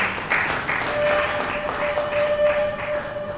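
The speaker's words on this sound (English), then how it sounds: "Please a round of applause for that response." Conference audience in Lagos applauding a panel answer: a moderate patter of clapping from a seated crowd that holds steady throughout, with a faint steady tone running underneath and no talking.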